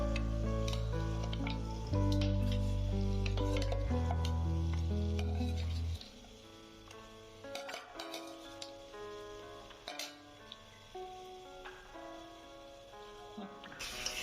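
Marinated local chicken goes into a hot spiced onion, ginger and garlic masala for an Assamese curry. Sustained musical tones come first, then soft sizzling with scattered clinks and stirring scrapes of a utensil against the pot.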